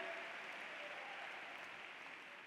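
A church congregation claps hands in praise with a dense, even wash of applause that sounds fairly distant and soft, holding steady throughout.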